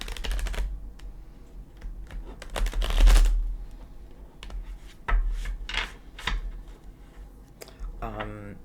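A Gilded Tarot card deck being shuffled by hand, brisk riffling bursts and soft card-on-card rubbing with short pauses in between, close up, and a voice briefly at the end.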